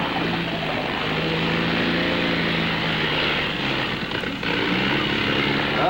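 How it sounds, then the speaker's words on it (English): A propeller plane drones steadily overhead as it comes in to land, a loud continuous engine roar with a slight wavering hum and no talk. "Oh, this plane looks in bad shape."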